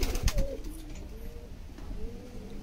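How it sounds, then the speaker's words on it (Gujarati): Golden desi Kathiyawadi pigeons cooing nearby, a few soft low rolling coos over quiet background noise. "પંજાબ માં હરિયાણા માં બધે ગમે એ રીતે કબૂતર રાખતા હોય, પણ અમે આવી રીતે કબૂતર રાખી છે."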